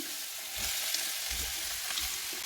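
Cut beans and onion fry in a pan, giving a steady close hiss of sizzling oil with a few soft stirring bumps underneath.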